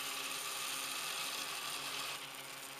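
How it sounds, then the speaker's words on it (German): A 3D printer with a granule extruder printing clear sugar, giving a continuous dense mechanical rattle and hum that drops slightly in level near the end, close up with no voices. "Es ist ja deutlich zu hören, wie der Drucker klappert."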